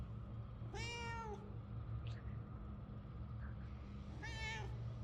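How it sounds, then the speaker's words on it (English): Two distinct video-game cat meows, about three seconds apart, over a low rumbling background hum; no talking. "you can also meow"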